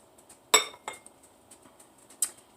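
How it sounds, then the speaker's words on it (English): A utensil stirring a small mixture of onion powder and lemon juice in a dish, producing a few sharp clinks against the container with softer scraping taps in between, close and fairly quiet. "Alright, I'm just going to stir that up"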